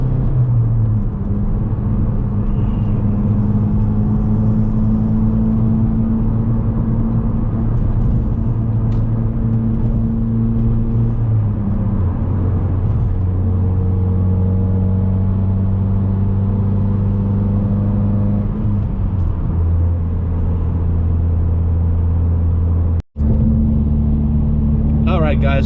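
Steady drone of a car on the road fitted with a new Xtreme clutch, low engine rumble and tyre noise with shifting engine tones throughout and a brief dropout near the end.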